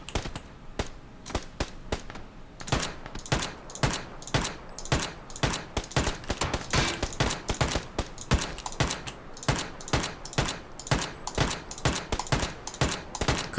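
Rapid bursts of Uzi gunfire in the video game PUBG crackle continuously, sharp repeated shots in quick rhythmic volleys with little pause, loud and close.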